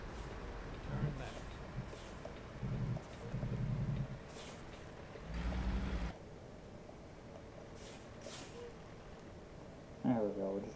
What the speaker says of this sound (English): On the parking brake.